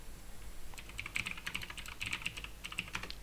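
Fingers type on a computer keyboard while a new code file is being created, a quick run of light clicking keystrokes in uneven bursts, close and quiet, with no speech.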